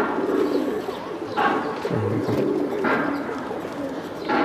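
Flying pigeons of fancy breeds kept in Vikroli, Mumbai, coo in low, soft throaty bursts, a few short calls spaced across a few seconds against a busy background murmur.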